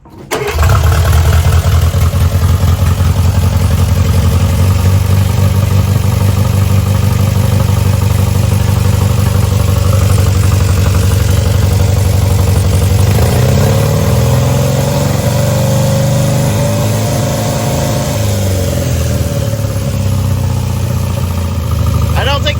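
A barn-find Sprite car's engine cranks and catches, then idles with a steady, throaty chug before being revved into a higher, rising whine and settling again, loud and close, with people talking over it.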